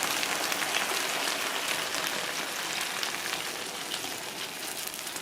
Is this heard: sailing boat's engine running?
no